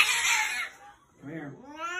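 A female cat yowls at a veterinary clinic in two drawn-out, wavering cries, the first loud and long, the second rising after a short pause, close by.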